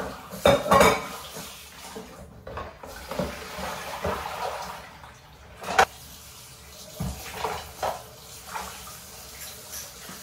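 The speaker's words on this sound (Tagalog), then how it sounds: "Hugasan ko muna itong mga plato" Plates and cutlery clatter and clink in a kitchen sink as dishes are washed under running tap water, with sharp knocks at irregular intervals and no talk.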